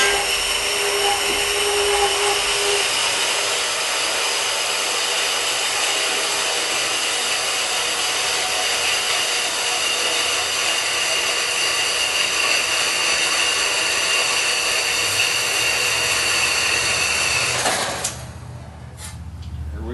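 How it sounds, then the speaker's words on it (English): A power tool cuts through small metal tubing with a loud, steady high-pitched whine that holds for about eighteen seconds before cutting off and dropping to quiet. "I need to cut a piece of this small tubing"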